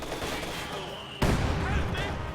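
Heavy mortar fire in a WWII strategy game: a rattling barrage of distant gunfire gives way to a sharp, loud impact midway, followed by rumbling blasts, with a voice talking over it.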